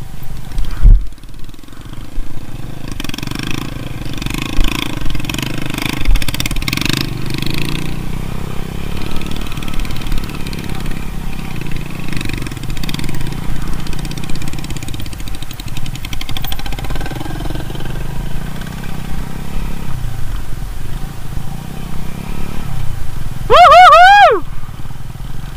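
Motorcycle engine running steadily on a ride out to the Kedung Ombo reservoir, a continuous mid-pitched drone with wind rumble under someone talking, ending with a short rising whine.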